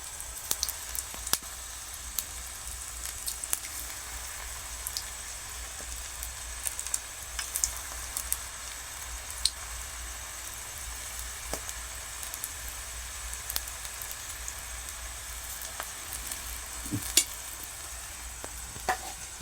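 Maath bhaji fritters fry in very hot oil, a steady close crackling sizzle with scattered pops and spits throughout and no talking.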